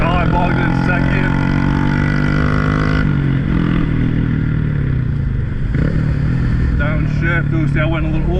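A motorcycle on a race circuit bogging in second gear, its engine note droning and sagging with clatter and rumble before picking up again, loud and close throughout, with a voice talking over it.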